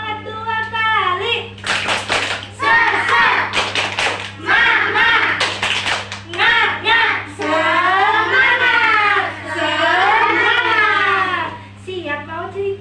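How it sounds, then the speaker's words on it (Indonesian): In a kindergarten classroom, a group of children claps out the tepuk semangat rhythm game, repeated crisp hand-clap bursts alternating with loud sung and chanted kids' voices close to the microphone. "Tepuk semangat dua kali."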